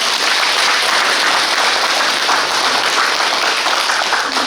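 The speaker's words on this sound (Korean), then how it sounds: "다시 박수 한번 칠까요?" Dense, sustained applause from an audience at a Buddhist temple dharma talk in Korea, steady and loud throughout with no pauses.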